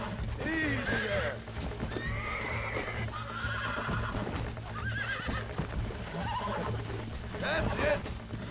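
Horse in the Red Dead Redemption video game neighing and whinnying while being broken, with clip-clop hooves and someone speaking over the struggle, loud and close under game music.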